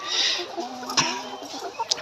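Chickens on a poultry farm troubled by coryza cluck in a dense, continuous murmur close by, with a few sharper calls rising above the background.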